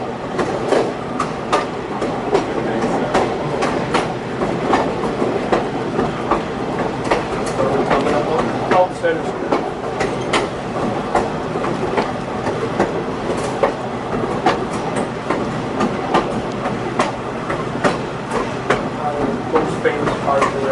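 A train runs along the Western Maryland Scenic Railroad with steady rumbling and rhythmic clickety-clack of wheels over rail joints, loud and close throughout.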